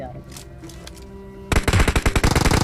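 Automatic gunfire in a battle royale video game, a loud rapid burst of repeated shots erupting abruptly halfway through after quieter game ambience.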